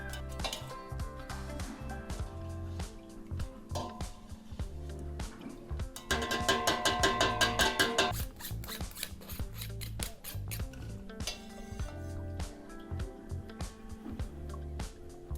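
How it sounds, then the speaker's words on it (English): A small hand strainer skims fat from beef pho broth, making steady rhythmic metallic scraping and clicking against the pot, with a brief louder burst of rasping in the middle. "I have a little hand strainer, so I'm just going to go in a little bit and skim out whatever else I can"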